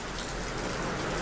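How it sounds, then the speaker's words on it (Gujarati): Heavy unseasonal rain pouring down in the Gir region, a dense, loud, unbroken roar of downpour close by with no voices. "વરસાદ ખાબકી રહ્યો છે"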